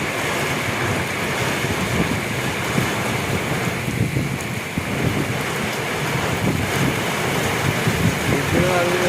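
Strong wind from a Kalbaisakhi storm rushes steadily, buffeting the microphone and shaking trees in a constant loud roar, while someone talks briefly over it.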